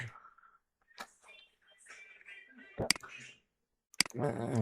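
Computer keyboard keys tapped for a copy shortcut and then Enter, a few sharp isolated clicks between stretches of someone talking, with a denser burst of key noise at the end.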